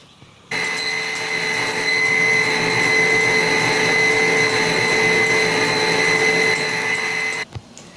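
An electric mixer beats refined sugar into sponge cake batter, a steady, loud whirring drone that starts abruptly, holds evenly for about seven seconds and then cuts off.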